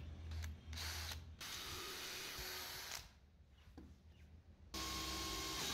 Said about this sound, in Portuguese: furando primeiro com uma broca mais fina e furando primeiro até a metade